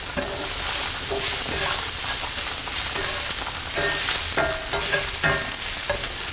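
Onions sauté in a pan with a constant soft sizzle, joined by intermittent scraping and stirring knocks from a utensil.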